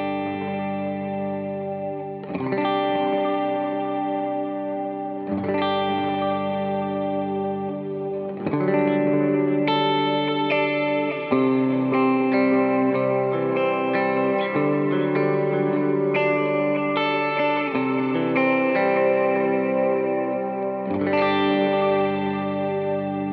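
Clean electric guitar on the middle pickup, through a Strymon Iridium with reverb and delay: chords and picked notes ring out with trails, strummed in phrases that swell and overlap, close and steady throughout.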